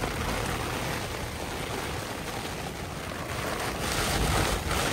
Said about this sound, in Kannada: ಮಳೆ ಗಾಳಿ ಯಾವ ರೇಂಜಿಗೆ ಬರ್ತಾ ಇದೆ ನೋಡಿ.